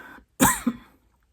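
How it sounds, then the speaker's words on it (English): A single sharp cough, followed by a smaller second catch of breath, close and clear against silence. "Don't know why I'm coughing."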